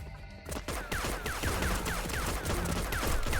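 Gunfire in the video game Dust & Neon: a dense stretch of rapid shots and impacts with crashing, metallic clatter. The shots run continuously and loudly for several seconds, with no speech.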